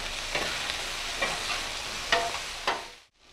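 Hash browns fry in a pan with a constant hissing sizzle, broken by several scraping strokes of a spatula, close and clear, ending in a sudden quiet.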